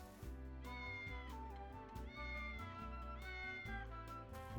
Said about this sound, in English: that another cat?